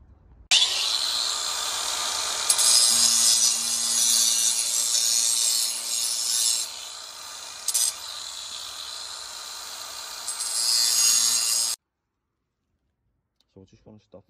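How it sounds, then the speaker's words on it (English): An angle grinder cuts through paving stone for a geometric paved path, giving a loud, steady, hissing whine for about eleven seconds with slight pitch dips, then stops abruptly, followed by a few faint knocks. "I'm just nipping off with the grinder."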